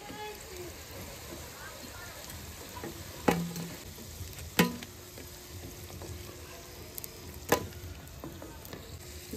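Kuli pitha frying in hot oil, a steady crackling sizzle running throughout with a few sharp clinks of utensils, while people talk nearby.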